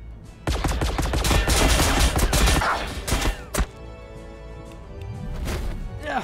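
Gunfire from the Warhammer 40K: Battlesector video game, a loud rapid burst of overlapping shots and impacts for a few seconds, then a few isolated thumps and a quieter tail.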